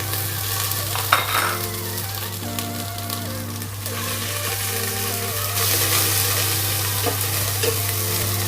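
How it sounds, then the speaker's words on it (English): Garlic cloves and thyme stir-fry in hot oil in a pot, a continuous close sizzle with scraping stirs and a low steady hum underneath, growing slightly louder and brighter toward the end. "We need some oil because we need to stir fry everything"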